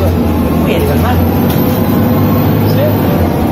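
MAN engine of a BredaMenarini M240NU city bus, a loud steady low diesel drone heard from inside the bus, with people talking over it.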